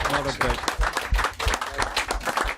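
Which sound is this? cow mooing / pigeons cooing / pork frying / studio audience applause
studio audience applause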